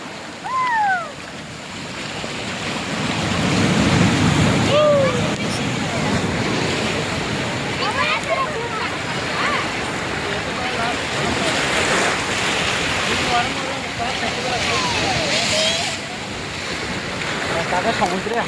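Ocean surf at Kanyakumari beach in the evening, continuous washing waves with wind buffeting the microphone, while people talk nearby in the background.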